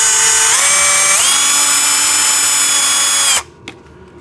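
A power tool whines loudly and steadily while undoing a bolt on a JCB ride-on toy tractor, pitch stepping up twice before it cuts off abruptly, followed by a faint click.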